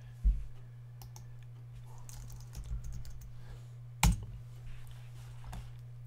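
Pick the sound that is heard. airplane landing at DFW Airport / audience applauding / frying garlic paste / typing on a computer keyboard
typing on a computer keyboard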